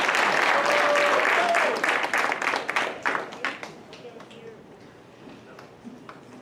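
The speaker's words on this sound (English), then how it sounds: "So they really deserve a round of applause" Applause from a summer arts camp audience before a performance, loud at first, then thinning into scattered claps that die away, with faint voices underneath.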